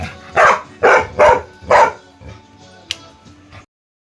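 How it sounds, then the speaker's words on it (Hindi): A dog barks four times in a quick, evenly spaced burst, loud and close, followed by quieter whimpering noises. "नहीं ऐसे नहीं भौंकना नहीं।"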